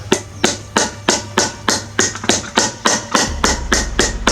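A new car wheel bearing race is knocked into its housing using the old bearing as a drift, a rapid series of about seventeen sharp metallic hammer taps in a steady rhythm, loud and close.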